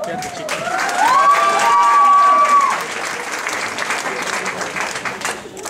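Pageant audience at Miss Saint Denis 2014 breaks into sustained applause for a candidate, with a rising vocal cheer soaring over the clapping in the first seconds before the clapping continues more evenly.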